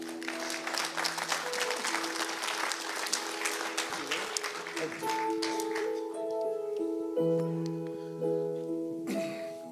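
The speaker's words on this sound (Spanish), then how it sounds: "den un aplauso al Señor" Church congregation applauding after a sermon, a steady spatter of claps throughout with sustained musical tones rising underneath and growing louder toward the end.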